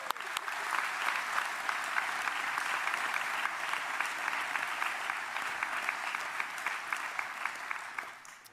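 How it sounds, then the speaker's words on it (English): Sustained applause from a conference audience at a Scottish Labour gathering, steady dense clapping lasting several seconds before tapering off at the end, with no speech over it. "I think we should clap that."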